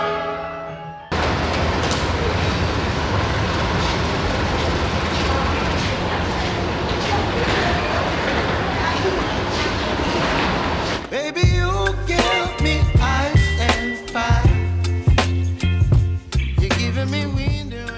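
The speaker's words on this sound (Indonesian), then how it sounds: "Kereta api Baturaden Express dipersiapkan di jalur 3." Baturraden Ekspres passenger train at a station, a loud sustained roar of rolling stock and engine for about ten seconds, then an abrupt cut to choppier, uneven bursts of mechanical noise.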